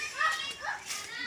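Children's voices carry from a river during play, high-pitched calls and shouts that are fairly faint and somewhat distant across a brief moment.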